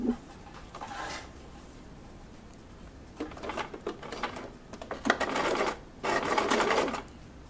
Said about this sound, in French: nous allons mettre le bord de tissu contre ce repère. Et nous allons coudre.